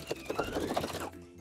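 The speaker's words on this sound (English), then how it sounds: "we're just gonna do a neat little edge stitch closing up that opening" A sewing machine runs a quick burst of edge stitching close to the edge of an infinity scarf, a rapid rattling patter lasting about a second before stopping, close by.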